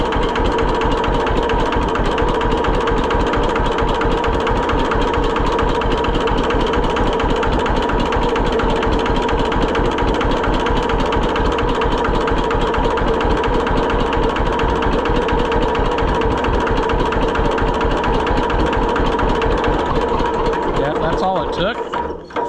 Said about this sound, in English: That thing just sits there and idles.